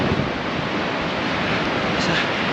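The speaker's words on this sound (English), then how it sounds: "So, the wind is picking up a bit." Strong wind buffeting a covered microphone during an outdoor marathon training run, a steady loud roar and rumble that fills the whole clip with no break.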